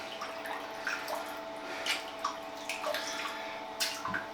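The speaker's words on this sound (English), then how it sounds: "So we'll get the brush wet" Running water wets a shaving brush at a sink, a steady close stream with small splashes and drips as the bristles are worked under the tap.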